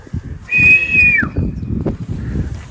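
A single long, steady human whistle to call a falcon, held for under a second, loud and close, over low rumbling background noise.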